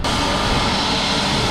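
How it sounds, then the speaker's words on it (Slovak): A nearby airplane turning on the runway at Skiathos airport in Greece, a loud, steady engine roar with broadband rumble and hiss, continuous and close throughout. "tu už ide vlastne jedno lietadlo, ono sa ide iba otočiť"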